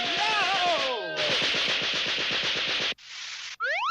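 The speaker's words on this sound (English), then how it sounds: "This is a Gatling gun." Cartoon Gatling gun firing a rapid, loud, continuous burst of shots, with cartoon-style whistling tones sliding over the start and a few rising whoops after the burst cuts off.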